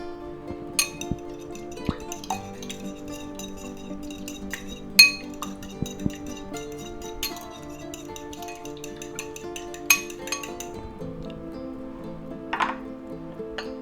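Egg and flour being mixed in bowls to bread chicken for a chicken parmesan sub: quiet, repeated light clinks of a utensil against the bowls, irregular in rhythm, with no talking.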